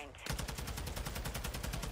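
Rapid automatic gunfire in a video game, fired at default recoil, breaks in after a brief pause as a fast, even burst of loud, close shots with a faint voice underneath.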